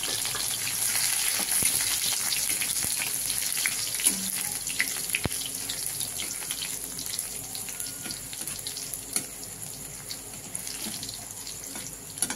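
Crushed garlic dropped into hot oil with cumin, a steady crackling sizzle with sharp pops and clicks; running water can be heard alongside, and no one speaks.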